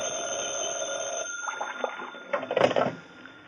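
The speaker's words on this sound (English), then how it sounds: "when the phone rang" A telephone rings in a vintage radio detective drama, a steady metallic bell tone that fades out, followed by a few brief knocks and clatters of handling.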